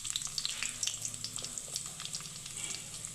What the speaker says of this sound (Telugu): మిరియాలు ఫ్రై అవుతున్నాయి.